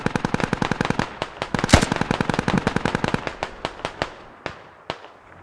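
Rifle fire in the military shooter Squad, aimed through a fence: a long run of sharp, loud, closely spaced shots, one heavier crack near the start, thinning to a few spaced rounds at the end.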